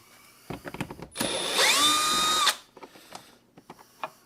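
A power drill spins out a 10 mm bolt on a 2019 Ram 1500 in a single loud whir of about a second and a half, with its pitch sliding as it runs. Quieter clicks and handling noises come before and after.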